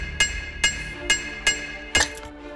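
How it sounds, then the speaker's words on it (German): Five ringing metallic hammer strikes in the game Christmas Eve Mitternachtsruf, where squirrels hammer metal, evenly spaced clanks with a bright anvil-like ring, the last two closer together. "Ich glaube, die Hämmer dieser Eichhörnchen brechen selbst das härteste Metall in zwei."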